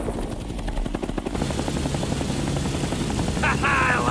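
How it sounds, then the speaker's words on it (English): A helicopter flies in the Interceptor game, its rotor chop a fast, loud, rhythmic thumping that stays close and continuous throughout. "the Interceptor arrives, and look at this incredible helicopter piloting from Mikey"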